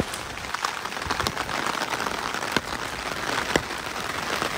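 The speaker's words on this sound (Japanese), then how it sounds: "今日はすごい雨が降ってます" Heavy rain pours at night on a city street in an Isahaya entertainment district in Nagasaki, Japan, in strong wind, a dense steady hiss of drops with occasional sharper patters close by.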